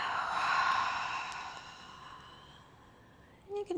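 A yoga instructor breathes out in a long, soft sighing exhale that fades over a few seconds, close and quiet, ending with a short faint vocal sound.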